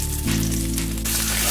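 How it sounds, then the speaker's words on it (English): Garlic sizzles in a hot frying pan, a short burst of steady, close frying crackle. "Put some garlic in the pan."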